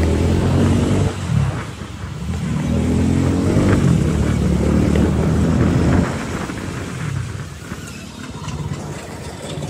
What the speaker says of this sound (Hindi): काफ़ी ज़्यादा ही ट्रैफिक है इधर